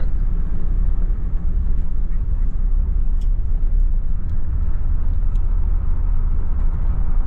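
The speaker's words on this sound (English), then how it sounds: "So here I am on this gravel road right now, and you can hear the odd, you know, rock ping, but not a ton." Atturo Trail tires on a lifted third-generation Toyota Tundra rolling over a gravel road, a steady low rumble of road and engine noise with a few faint, scattered rock pings against the truck.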